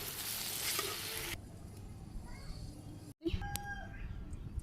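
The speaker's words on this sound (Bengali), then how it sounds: "শুকনো মরিচের গুঁড়ো, কাঁচামরিচ আর একটু কাঁচা পেঁয়াজ দিয়ে দিলাম। চরচর হয়ে গেছে" Dried chili powder, green chili and raw onion sizzle in hot oil, starting as a loud burst of frying that quickly drops to a quieter, steady crackle.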